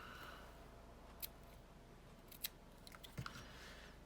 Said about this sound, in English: let me get my scissors that cut my ribbon good